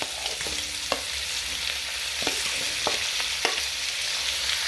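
Onions, garlic and tomatoes fry in a pan, giving a close, steady sizzle punctuated by several sharp utensil knocks and scrapes against the pan.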